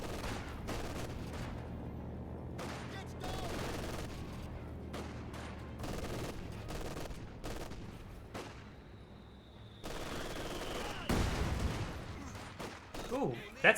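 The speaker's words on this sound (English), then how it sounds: "that's a 120mm mortar" A 120mm mortar fires amid a Company of Heroes 2 battle, dense distant gunfire and repeated heavy thuds rattling throughout, with a louder blast near the end.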